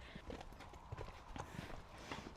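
Hooves of a ridden horse, a spotted cob hacking out, clip-clop in an uneven walking rhythm, close but fairly quiet, with faint background noise and no talk.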